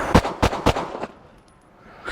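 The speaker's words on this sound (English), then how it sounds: "Shoot the gun." Four quick handgun shots are fired in steady succession while the shooter moves, close and sharp, then quiet settles in.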